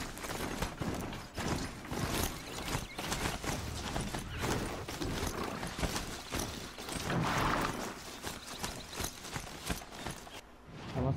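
Mount's hooves galloping in Horizon Zero Dawn: rapid, continuous rhythmic thudding footfalls close by and fairly loud, with mechanical clanks mixed in and no speech over them.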